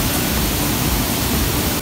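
A waterfall on a nature trail, heard up close as a loud, steady broadband rush of falling water with no other sounds.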